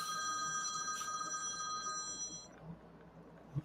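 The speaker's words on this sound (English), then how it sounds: "That was my phone ringing." A cell phone rings at a distance under room tone, with a repeating electronic tone for about two and a half seconds before it cuts off.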